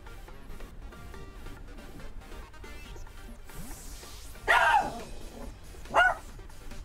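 A dog barks twice near the end, two loud, sharp, close barks about a second apart, after faint background noise and some soft murmuring speech.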